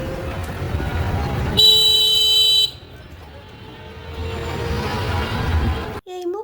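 Vehicle horns sounding at a busy road junction: a loud, steady honk lasts about a second amid constant traffic rumble, followed by a short sharp toot at the end.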